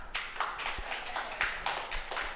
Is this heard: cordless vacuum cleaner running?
no